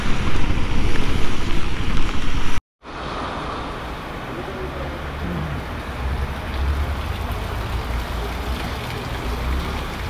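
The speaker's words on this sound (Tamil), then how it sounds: "வேறு லெவல் மழை கைஸ்." Heavy monsoon rain and rushing wind roar steadily while riding a Royal Enfield motorcycle in Goa, a dense close hiss that cuts out briefly, then resumes with a low rumble underneath.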